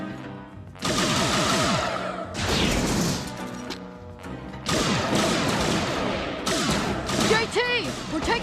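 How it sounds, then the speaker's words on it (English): Animated sci-fi battle gunfire: bursts of blasts and crashing impacts come in several loud waves, with shouted voices and sweeping effects between them. "We're taking fire!"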